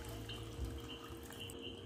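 Water pours steadily into a pot of seasoned meat cooking for hot dog filling, a continuous low splashing gush that runs the full length at moderate level with no voices.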